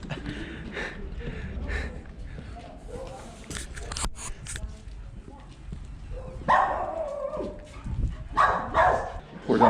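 A dog on a street in Potosí, Bolivia barks in short bursts and whimpers, heard close and mixed with people talking and street noise.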